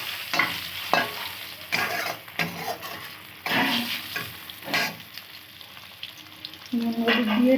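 Eggs sizzle and fry in a pan with salt and turmeric, with repeated stirring and scraping bursts at an uneven rhythm. The loud, close cooking noise continues throughout and no one speaks.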